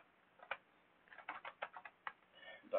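Someone types a short command on a computer keyboard, a quick run of soft close key taps with brief pauses between clusters, recorded faintly.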